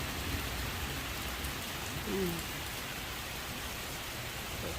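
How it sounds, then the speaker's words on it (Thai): Steady, soft rain falling during a storm, a constant low hiss of drops with no voices and no other distinct sounds. "ฝนตกฝนตกจ้ะ"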